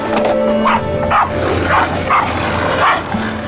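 A dog barks aggressively at passing skateboarders, sounding off in a steady series of sharp woofs and yips, close and loud over a constant low background hum.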